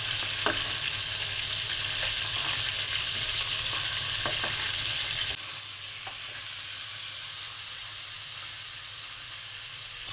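Fish frying in hot oil on a home stove gives a steady, loud, close sizzle throughout, with faint stirring clicks; the hiss drops to a lower level about halfway through. No one speaks.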